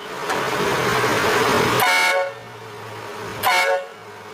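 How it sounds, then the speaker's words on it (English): A train horn fitted to a 2022 Ford F650/F750 heavy truck blasts loud and close, one long multi-tone blare followed by a shorter second burst over a low idling engine. "And what that does is it turns on the train horn."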